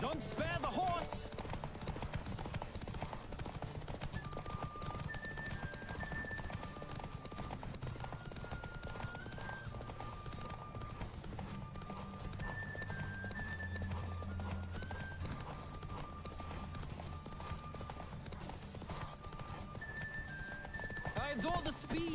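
Rapid galloping hoofbeats from a video game horse race in The Witcher 3 run steadily throughout at moderate distance, with a horse whinnying and faint background voices and music.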